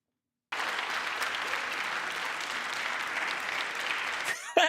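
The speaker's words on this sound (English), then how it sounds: "Why are you guys applauding now?" Audience applause in a recorded political speech, a steady wash of many hands clapping that starts abruptly after silence and runs evenly throughout, cut off by a brief sound at the end.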